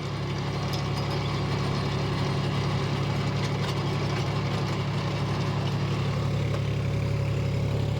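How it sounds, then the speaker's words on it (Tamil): A John Deere 5050D 4x4 tractor drones at a constant loud pitch while pulling a rotavator through a field, with a steady mechanical rattle of the implement underneath. "இன்ஜினோட சவுண்டு பெருசாக டிஃப்ரெண்ட்டே கிடையாது அது பாட்டுக்கு போகுது"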